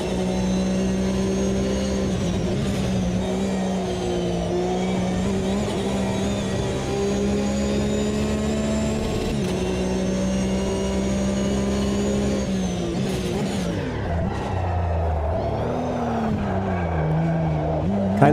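Porsche 911 GT3 Cup race car lapping Hockenheimring in a racing game, a loud sustained engine drone holding steady revs, then dropping and shifting pitch through gear changes and braking near the end, heard close with no talk.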